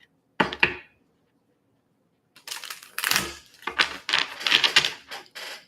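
Tarot cards are shuffled by hand: a short, crisp riffle, a pause, then a longer run of papery clattering shuffles, close and fairly loud, with no voices.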